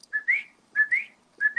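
A person whistles an imitation of a coqui frog's two-note call, a short steady tone then a rising slur, repeated three times, clear and close with silence between.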